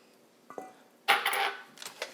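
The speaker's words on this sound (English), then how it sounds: "Give that a good mix." Pumpkin puree is stirred into madeleine batter in a bowl, giving a couple of light clinks and then a second or so of wet scraping and sloshing, close and fairly quiet, with brief utensil taps after.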